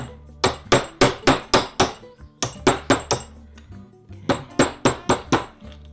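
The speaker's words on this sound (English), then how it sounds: "Got it annealed, pounding it down." A hammer pounding an annealed brass shell casing flat, loud sharp metallic strikes in three bursts of rapid, evenly spaced blows with brief pauses between.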